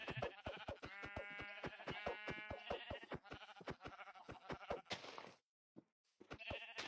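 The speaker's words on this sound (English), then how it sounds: "Don't remember it taking this many hits to kill a sheep." A sheep in Minecraft bleats repeatedly in loud, wavering cries, close and continuous with rapid pulsing, ending after a brief silence in another short bleat.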